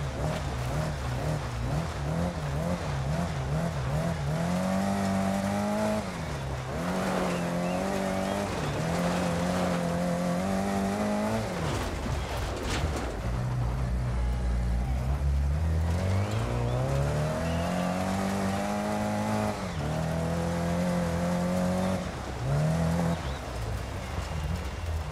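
Rally car engine in EA Sports WRC on PS5, revving up and down continuously with rising and falling harmonic sweeps through gear changes, loud and close with faint tire noise, no voices.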